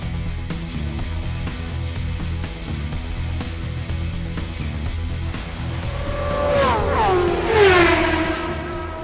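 Race cars at a motorsport event roaring past at a distance, continuous engine drone with a rising and falling pass-by whine building near the end, loud and outdoors.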